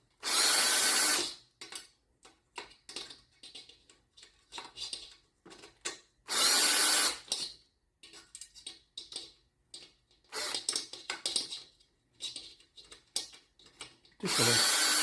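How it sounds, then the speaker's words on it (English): A cordless power drill whirs in several bursts of varying length while tensioning the spokes of a front disc wheel, the loud runs separated by quieter clicking and handling of the wheel and tools. "if you don't have one of these nifty drills"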